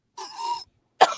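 Two harsh coughs from a person, the first a longer raspy hack and the second a sharp short burst after a brief silence, close and loud.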